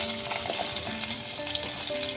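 Pieces of tender brinjal sizzle steadily in hot oil in a pan, a close, continuous crackling fry with light stirring and no voices.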